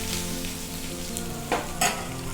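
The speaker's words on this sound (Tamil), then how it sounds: "ஆஃப் பண்ணிவிட்டு கடுகு அப்படியே விட்டுருங்க" Mustard seeds in hot oil in a pan for onion chutney, a continuous sizzle with two brief bright crackling bursts near the end.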